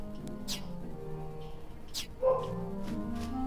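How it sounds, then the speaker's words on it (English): Dogs bark in the video game Kingdom Hearts Birth by Sleep, a few short, fairly quiet barks and yips spaced apart over soft background game sound. "Oh, the dogs are going at it again."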